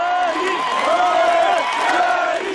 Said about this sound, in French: Les martyrs ne meurent jamais, scande la foule.